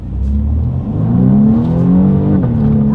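A 2020 BMW M235i Gran Coupe in Sport mode launching hard from a standstill, the engine rising in a loud, steadily climbing roar with a brief dip at a gear change before pulling on, heard from inside, no talking.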